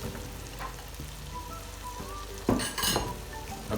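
Cabbage and broccoli sautéing in a pan for vegetable pulao, a steady close sizzle and crackle with a louder burst of frying and stirring midway.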